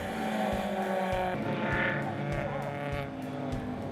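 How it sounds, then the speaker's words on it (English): Mazda MX-5 race cars at an endurance race at Thunderhill, a loud continuous engine howl with shifting pitch as the cars pass, under a steady roar of track noise. "3 of the 4 Mazda MX-5 cars are still on the track at this point"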